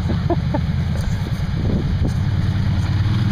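A vehicle stuck in a muddy puddle at Snowshoe, Pennsylvania, with its exhaust just above the water, keeps its engine running in a steady low rumble. Wind buffets the microphone and a few faint knocks sound over it.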